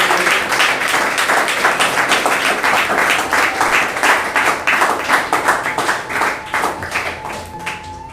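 Audience applause at a felicitation ceremony for a newly selected forest guard, steady dense clapping from a room of people that holds throughout, loud and close, gradually thinning toward the end.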